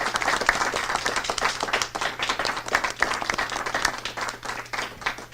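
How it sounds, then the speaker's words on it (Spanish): Scattered applause from a lecture audience on human rights, a loose patter of many hands clapping steadily near the listener with a low hum underneath, no voices. "Vamos a darle un aplauso."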